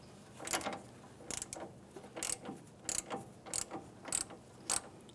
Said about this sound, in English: I'm just going to let that wrench spin and lock against the strut.